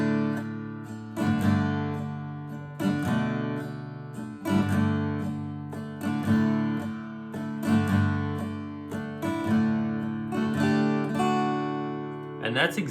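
An acoustic guitar plays an intro at full tempo in 6/8, steady strummed chords with picked notes ringing over about thirteen seconds, close and unaccompanied.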